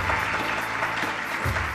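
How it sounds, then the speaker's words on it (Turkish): A short burst of steady, dense applause from an audience at an award ceremony, even and continuous with no voices over it. "Alkışlarınızla tekrar çok teşekkür ediyoruz."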